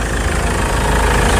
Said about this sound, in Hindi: तो आप इसका भी इंजन का कंडीशन देख सकते हैं। एमहॉक इंजन है इसमें